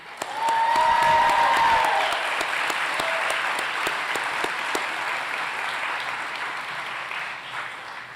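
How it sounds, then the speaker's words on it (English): An audience claps at a South College physical therapy white coat ceremony in Knoxville, Tennessee, a full, sustained round of applause from a large crowd that swells quickly and slowly tapers, with a brief tone or voice early on. "Let's just go ahead and start the clapping now."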